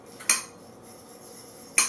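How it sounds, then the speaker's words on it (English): Two brief metallic clinks of a utensil against a bowl while a salad seasoned with salt and pepper is stirred, separated by a quiet pause and heard close up with no talking. "And then give it a stir"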